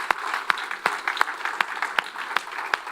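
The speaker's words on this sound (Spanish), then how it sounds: "Denle un aplauso grande al Señor," A church congregation clapping, sharp hand claps loosely in rhythm with softer scattered claps between, a short burst of applause at moderate loudness.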